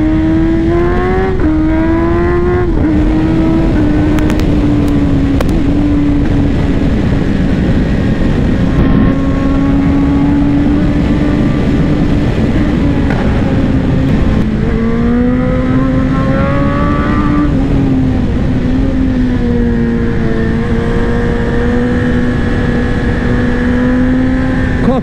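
A BMW M 1000 XR Competition motorcycle from 2024 is ridden hard, its engine droning loud and close and holding steady revs, pitch shifting through gear changes and cornering with wind noise around it.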